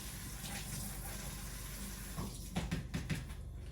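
Onions being rinsed under a cold kitchen tap make a soft, running water sound. A few brief splashes and clatters come toward the end.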